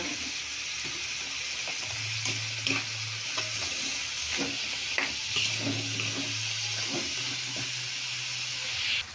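Mixed vegetables seasoned with iodized salt sizzle steadily in a pan as a utensil stirs them, with scraping strokes and clinks recurring over the constant frying hiss, close up.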